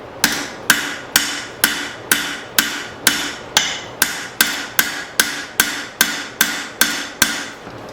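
A blacksmith hammers hot steel to bevel a chopper blade, sharp metallic blows landing in a steady rhythm of about two per second, each ringing briefly, close and loud throughout.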